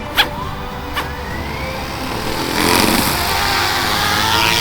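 A YX F180 3D/6G six-channel RC helicopter spins up its motor and rotors and lifts off, a steady whirring buzz that swells and holds loud after a couple of sharp clicks at the start.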